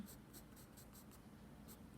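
A soft 6B graphite pencil shades an owl head drawing on paper, making faint, close scratchy strokes in a quick repeating rhythm of about half a dozen bursts.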